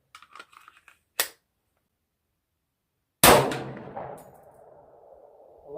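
A Glock 20 Gen 4 10mm pistol with a 4.6-inch barrel fires a bear load, a single sharp, loud report that rings out and decays over a second, preceded by a brief click and faint handling noises.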